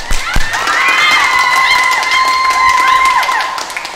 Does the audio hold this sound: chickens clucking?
no